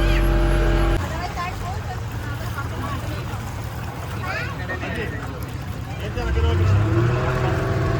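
A large boat carrying passengers to St. Mary's Island off India's coast, its engine droning steadily with water wash, a deeper rumble swelling near the end, as people talk over it.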